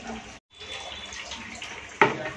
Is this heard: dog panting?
no